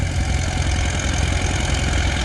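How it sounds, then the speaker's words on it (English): An antique tractor engine runs at a tractor pull, a steady low rumbling chug with a fast regular beat, close and fairly loud, with no talk over it. "Tractor picked itself back up, and he's good to go."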